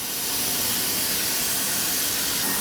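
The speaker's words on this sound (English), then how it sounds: "I've just got the valve here just barely cracked, but I'm putting enough steam in here that it's warming that engine up" Steam hisses through a barely cracked valve into an 1890s DeLoach steam sawmill engine being warmed up at the Georgia Museum of Agriculture, a loud, steady, unbroken hiss from start to finish.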